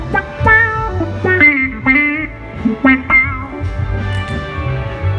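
Guitar played through a Source Audio C4 synth pedal set as an envelope filter, after a Pog octave pedal: close, loud plucked notes with sweeping, quacky filtered tones over a low sustained bass layer.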